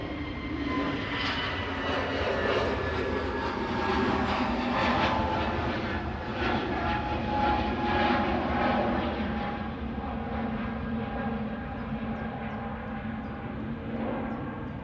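An Airbus A320neo at Manchester Airport, a continuous loud jet engine roar with a steady whine, holding level before easing slightly toward the end.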